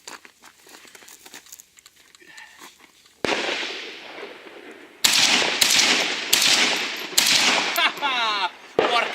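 Loud, close single shots from an AKM or AK-74 Kalashnikov rifle, about five or six sharp cracks spaced roughly a second apart, each with a lingering echoing tail, after a few seconds of quiet rustling handling noise.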